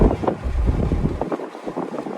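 Strong wind buffets the microphone in continuous low rumbling gusts, loud and close, outdoors along a road past farmland.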